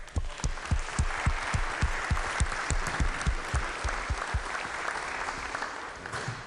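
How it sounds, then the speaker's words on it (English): State senators in the West Virginia Senate chamber give a brief round of birthday applause, a moderate ripple of many hands that thins out toward the end. "If the Senate would give them a little clap and applause"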